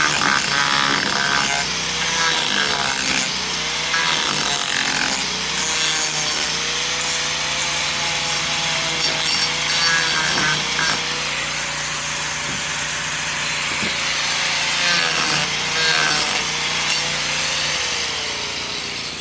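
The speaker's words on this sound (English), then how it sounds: "we're going to do the right thing and use our angle grinder" Angle grinder trimming the overhanging edge of a decking board on a barn roof build, a loud continuous abrasive whine and rasp, steady and close, lasting the whole stretch with slight pitch wavering.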